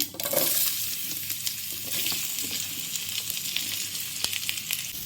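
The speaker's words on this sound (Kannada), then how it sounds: "ಒಗ್ಗರಣೆ ಸಿಡಿತಿದ್ದಾಗೆ ಹೆಚ್ಚಿಟ್ಕೊಂಡಿರುವಂತಹ ನೆಲ್ಲಿಕಾಯಿಯನ್ನು ಹಾಕ್ಕೊಳ್ತೇನೆ" Chopped Indian gooseberries fry in a spluttering tempering for gooseberry pickle, giving a loud steady sizzle with crackles and a few sharp pops, close and without talk.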